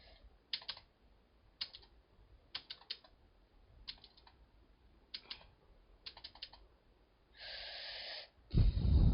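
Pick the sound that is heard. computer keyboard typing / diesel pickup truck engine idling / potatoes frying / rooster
computer keyboard typing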